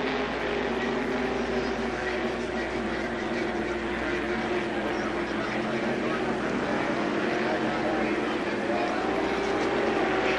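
Hydroplane and tunnel-hull racing boats roar continuously at the 1974 Governor General's Regatta of the Festival du Canada, a dense, steady engine drone that fills the whole stretch without letting up.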